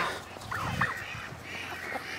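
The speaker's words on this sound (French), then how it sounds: "toutes mes oies, tous mes canards domestiques, tout est ensemble" Toulouse geese and domestic ducks call together in a mixed farm flock, giving a few scattered honks and quacks at moderate distance over a low outdoor background.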